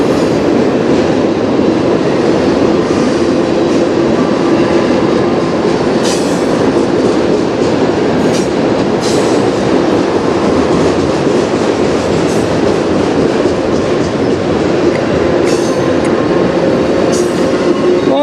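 A CN freight train rolls past steadily and loudly at close range in Sarnia, Ontario, with continuous rumbling, rhythmic wheel clatter and occasional higher squeals over its full length, and no voices.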